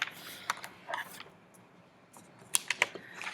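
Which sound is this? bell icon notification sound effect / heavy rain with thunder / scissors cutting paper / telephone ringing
scissors cutting paper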